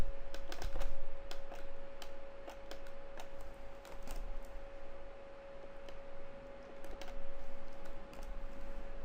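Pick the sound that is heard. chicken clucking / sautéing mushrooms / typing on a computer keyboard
typing on a computer keyboard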